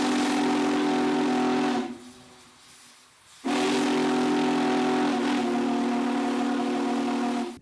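A loud Big Boy steam locomotive whistle blasts, cuts off for a moment, then sounds again in a long sustained chord with hissing steam.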